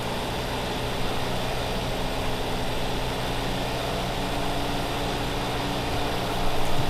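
A tractor engine in the Farming Simulator 2015 video game drones at a steady idle with a harmonic hum, evenly loud throughout and swelling slightly at the end, with no talking.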